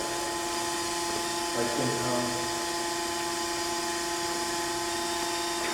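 The hydraulic oil pump of a Mitsui Hi-Tec MSG-250H-2AH precision surface grinder runs with a steady, even mechanical whine and hum. A brief spoken word sits over the drone.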